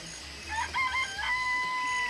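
Chickens in a coop in the video game Danganronpa: Trigger Happy Havoc cluck and crow, a few clear calls rising over a soft steady background, with no talk.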